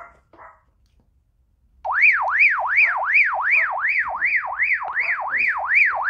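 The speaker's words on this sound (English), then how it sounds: "Oh my God, there's an alarm on it." An emergency prep radio's alarm sounds as a loud, close, wailing siren that sweeps up and down in quick regular cycles, starting abruptly after a brief faint tone and near silence.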